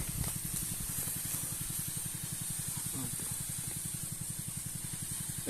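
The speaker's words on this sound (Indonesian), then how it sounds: "menyemprot rumput ya." Sancen motorized sprayer spraying grass in an oil palm plantation, a steady hissing spray over a rapid rhythmic engine pulse, fairly faint and continuous.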